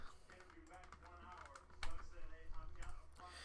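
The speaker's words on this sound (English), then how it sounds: "All right, let's type in these hits." Typing on a computer keyboard while entering trading card hits from a 2018 Leaf Valiant football box, soft scattered key clicks running under a continuous low hum and a talking voice.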